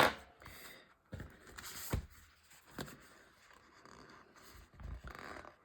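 A scalpel slowly cuts paper for a collage, giving soft, scratchy strokes and drawn-out scraping rasps in separate short pulls, close and quiet, with pauses between.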